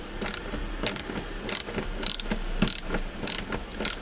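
A ratchet loosens the back seat bolts in a Porsche 996 C4S with short, bright bursts of rapid clicking, repeated about every half second, close and alone.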